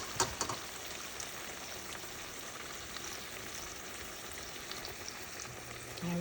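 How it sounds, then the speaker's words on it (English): Small oxtail pieces brown in a hot pan with a steady, even sizzle close by, opened by a few quick sharp crackles and pops, then holding a constant frying hiss with no talk. "I'll toss in the small pieces to brown"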